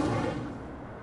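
An Incendio fire spell cast in Hogwarts Legacy, one short heavy burst that fades over about a second, with no one speaking.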